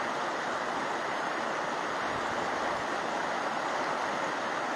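Broadband rushing water of a river at Gangotri fills the whole stretch as a loud, steady, close roar with no voices.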